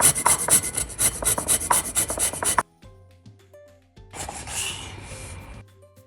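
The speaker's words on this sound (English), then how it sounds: "So we're going to have a bit more lime zest." A lime is zested on a grater in quick, rhythmic rasping strokes for a couple of seconds, then a short pause with faint clicks, followed by a softer, rougher scraping pass, close and clear.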